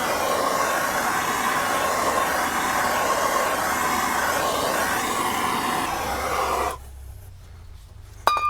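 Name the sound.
heat applied to a stuck Bravo 3 bearing carrier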